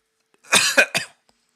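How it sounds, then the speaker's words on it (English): Three quick coughs close together, near and fairly loud, with silence before and after. "That causes me to cough so much."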